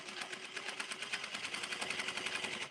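A sewing machine running a long basting stitch on a 5/8 inch seam while sewing a Vogue V1870 pattern, its needle clattering in a fast, even rhythm that stays close and steady throughout.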